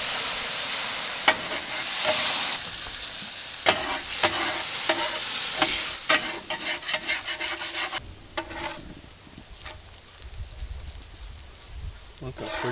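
Bacon frying on a 22-inch Solo Steelfire travel griddle at a creekside breakfast, with a loud continuous sizzle broken by repeated scrapes and taps of a spatula pushing strips across the steel. The sizzle softens later on.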